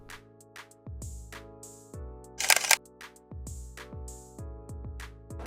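Nikon F3 35mm film camera firing its shutter repeatedly, crisp mechanical clicks and advance sounds in an irregular series over a musical background.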